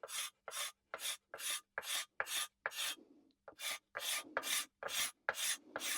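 Rhythmic broadband rasping strokes of a hand scraper taking fine shavings from the wooden neck of a cigar box stick dulcimer, about a dozen even back-and-forth passes close up with one brief pause, no voices.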